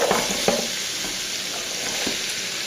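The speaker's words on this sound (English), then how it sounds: "I'm going to add a whole huge pile of onions right here" A big pile of onions frying in a pan for curry, a steady close sizzle with a couple of sharp stirring knocks, no talking.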